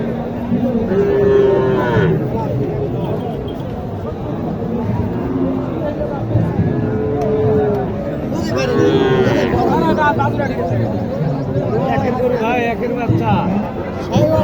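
Several Sahiwal cattle moo repeatedly at a cattle market, fairly close and loud, mixed with a busy crowd chatter and people talking throughout.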